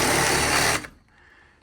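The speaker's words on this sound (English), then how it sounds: "I just take the 12-volt Sawzall here and just kind of do some surgery." A 12-volt Sawzall reciprocating saw cuts into model train layout scenery in a short loud burst of rapid buzzing strokes, then cuts off abruptly into near quiet.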